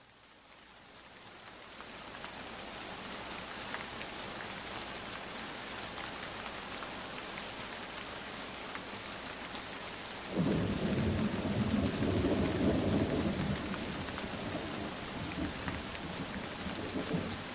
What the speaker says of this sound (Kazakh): Енді қазір жаңбырдың дыбысын тыңдайық.